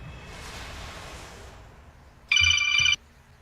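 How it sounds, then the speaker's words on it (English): A cell phone ringtone plays as a loud, short electronic trill lasting about half a second, cutting in over faint background noise and a soft hiss during a World of Warcraft raid session. "the cell phone goes off"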